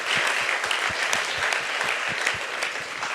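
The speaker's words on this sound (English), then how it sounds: "Let's give them one more round of applause." Brief round of applause from a council meeting audience, dense clapping with a few louder individual claps standing out near the listener.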